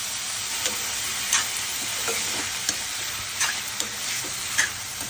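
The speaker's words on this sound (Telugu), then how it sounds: "దోసకాయ ముక్కలు వేసుకున్నాము. ఇది దోరగా వేగాలండి" Cucumber pieces and onions fry in a pan for a drumstick and cucumber curry, a steady close sizzle broken by scattered clinks and scrapes of a spoon stirring against the metal.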